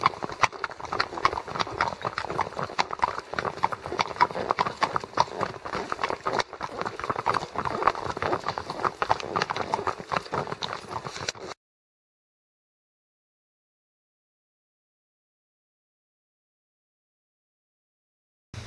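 Horses' hooves clip-clop on a blacktop road as a group of trail riders moves along, a steady overlapping patter of many hoofbeats at close range for about eleven seconds before going silent.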